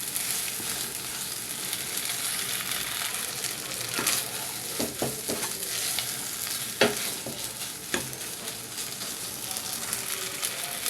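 Boiled sweet corn fries in a pan with a continuous soft sizzle, broken by occasional scrapes and clicks as it is stirred; close and fairly quiet, with no talking.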